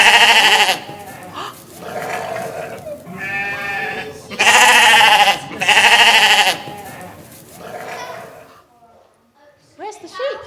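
Sheep bleat loudly in a series of wavering calls from a played recording, several long bleats with short gaps, ending in a few fainter cries.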